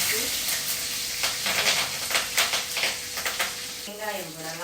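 Curry leaves and green chili sizzle and crackle loudly in a hot pan, with bursts of popping and a steady frying hiss, stirred briefly; no one speaks.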